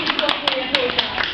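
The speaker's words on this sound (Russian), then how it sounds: "Да, аплодисменты." Brief scattered applause at a December pigeon show with children present, a handful of sharp claps in an uneven burst mixed with voices.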